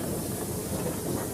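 A 305 class steam locomotive runs on the railway, a steady, close hiss of steam and rolling rumble filling the moment without a break or any voices.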